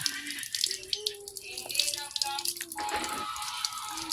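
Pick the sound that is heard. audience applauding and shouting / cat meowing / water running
water running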